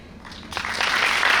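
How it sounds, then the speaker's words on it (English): An audience at a panel discussion breaks into applause for a panelist, starting quietly and then swelling into a fuller, sustained round of clapping. "give him a round of applause."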